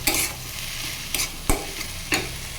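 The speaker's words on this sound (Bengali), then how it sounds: "এইভাবে আমি অনেক সময় ধরে এটাকে নাড়ব।" Leafy greens for a vegetarian dish sizzle in a pan while a spoon stirs them, scraping the pan in four sharp strokes spaced at irregular intervals over a constant frying hiss, with no talk.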